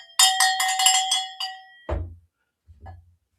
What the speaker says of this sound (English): Cowbell.